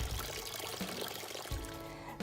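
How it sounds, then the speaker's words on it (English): Patio water fountain, about three years old, trickling and pouring steadily outdoors, a continuous close splashing wash with no talk. "I love the sound of water, and this fountain, I've had it for about 3 years"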